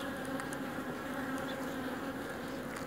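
Honey bees buzz around an open hive as frames are checked, a dense, steady droning swarm hum close by with occasional brief louder passes, without speech.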